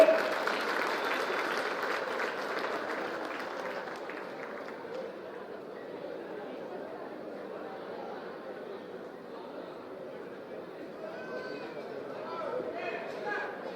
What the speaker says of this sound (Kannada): ನಮ್ಮ ಸರ್ಕಾರದ ಈ ಘನ ಕಾರ್ಯಕ್ಕೆ ಜೋರಾದ ಚಪ್ಪಾಳೆ